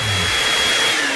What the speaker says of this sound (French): il suffit de le souffler avec une sèche-cheveux